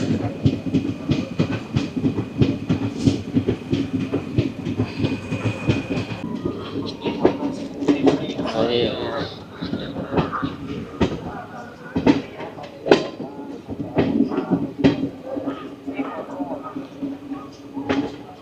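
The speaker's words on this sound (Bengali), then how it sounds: "ট্রেনটি অবশেষে তার অন্তিম স্টেশন, অন্তিম হল্ট রাজমহল স্টেশনে প্রবেশ করছে" A Tinpahar–Rajmahal passenger train pulls into Rajmahal station, with a steady low rumble and rhythmic clicks of wheels over rail joints throughout, loud and close, as a voice talks over it.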